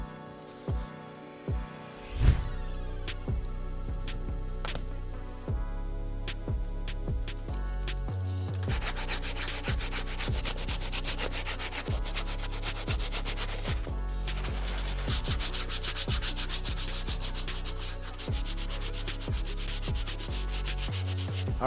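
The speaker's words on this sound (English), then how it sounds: "I'm gonna be using the stiff bristle brush and the brass bristle brush if I need it." A stiff bristle brush scrubs the sole of an Air Force 1 sneaker in steady, rhythmic back-and-forth strokes, a continuous close rasping that grows louder and brighter midway and carries on without talk.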